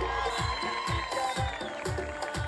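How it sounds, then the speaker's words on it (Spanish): Crowd at the opening ceremony of a regional teachers' games in Agua Blanca, Jutiapa, applauding the mayor: a steady wash of clapping that runs throughout at moderate level, with faint background voices. "Y que se escuchen esas palmas para el alcalde."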